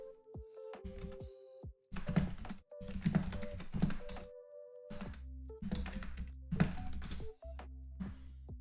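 Rapid, clattering keystrokes on a loud computer keyboard come in dense bursts with short pauses, close and prominent over a steady background hum and tones.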